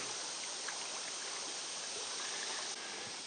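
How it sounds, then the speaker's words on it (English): The Sepulga River in Alabama flowing near the mouth of Pigeon Creek, an even, continuous wash of moving water heard from the bank, fairly soft and unbroken, with no one talking. "So this is the Sepulga River."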